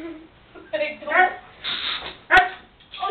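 A dog barks a few times close by, mixed with speech, with one sharp bark standing out near the end.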